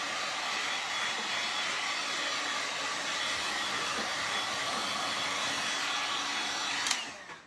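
A hair dryer blows steadily at close range over freshly painted black furniture, a constant whooshing whir that holds evenly for several seconds before a brief click and cutoff at the end.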